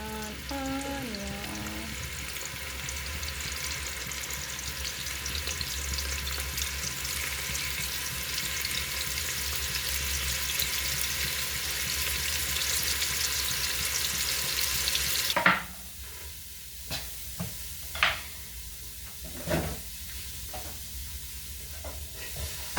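Onion fries in a pan for a githeri dish with a steady close sizzle for about fifteen seconds. The sizzle stops abruptly, followed by a few scattered clinks and knocks.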